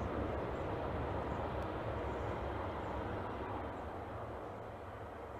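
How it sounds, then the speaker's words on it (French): Train passing at a distance: a steady broad low rumble and roar that holds for several seconds and slowly fades, faint and with no talking. "Il y a le train qui passe."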